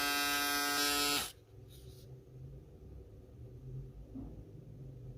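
A Panasonic ES-RT37 electric shaver buzzes loudly and close for about a second, then switches off, leaving quiet room rumble.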